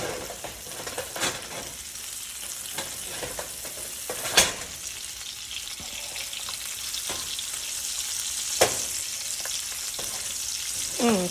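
A pork chop fries in garlic butter with thyme and rosemary, giving a steady close sizzle with a few sharp spatters and light clinks of basting, and nobody talks.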